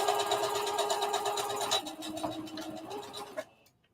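A sewing machine back stitches across dress fabric with a pocket piece attached. Its close, steady mechanical whir runs briefly, eases off, then stops near the end.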